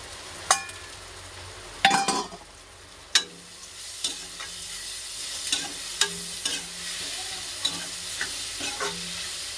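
A spoon stirring fried peanuts and roasted chickpeas in a pan with turmeric and salt for kande pohe, giving a soft sizzle under sharp, irregular metallic scrapes and clinks, close and alone.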